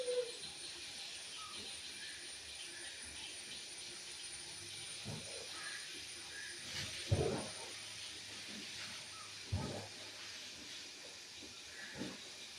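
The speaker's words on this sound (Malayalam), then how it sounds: "ഇതാ നമ്മുടെ ആവി അങ്ങനെ വരുന്നുണ്ട് കേട്ടോ." Steam hisses steadily from a puttu steamer in a small home kitchen, a soft continuous rush with a few brief louder bursts, faint and alone.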